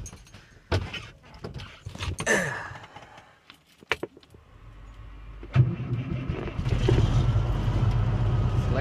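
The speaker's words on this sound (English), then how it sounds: "Let's see if this truck fires up." A truck engine is started: keys jangle and clunk, the starter cranks briefly, then the motor catches and settles into a steady idle close by.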